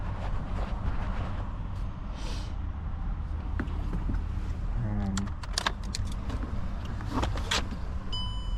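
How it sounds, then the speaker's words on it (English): Loose shards of a smashed side window shuffle and rattle inside a car door, with a run of light clinks and jangles at close range in a quiet setting. "And you can hear there's glass shuffling around in there."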